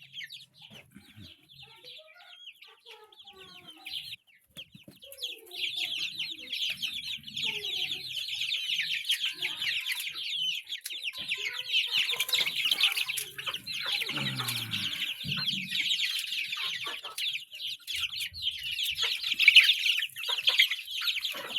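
Baby chicks chirping and clucking, a dense, continuous high peeping from a group of small birds close by, growing busier and louder over time, with occasional rustling.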